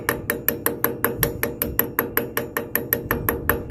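A hammer taps a CV axle into place on a Ford F-150 in a steady, even rhythm, about four sharp ringing metal strikes per second, close and loud, with no voices.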